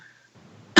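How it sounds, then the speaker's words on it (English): A man gives a single sharp, loud cough right at the end, just after a low rumble and near-silence. "He goes on a coughing attack right when I transition to him."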